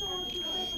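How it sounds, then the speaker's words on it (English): A door alarm built by elementary students sounds a continuous high electronic tone, loud and steady through the whole short burst, with a voice talking over it. "So we built an alarm system so when this door's open,"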